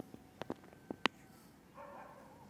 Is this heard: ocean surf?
no